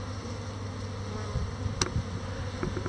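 Honey bees buzz in and around an open hive in a beekeeper's apiary at Old York Cellars, making a soft, steady hum with a few louder passes of single bees close by.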